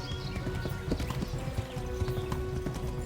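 In the medieval game Kingdom Come, a horse gallops with steady, rapid clip-clop hoofbeats that continue throughout, joined by a faint tonal background.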